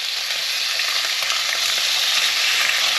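Fresh mackerel fillets, skin crisped and just flipped, fry in a hot pan with a loud, steady, close sizzle and crackle. The hiss is continuous for the whole moment, with no talking over it.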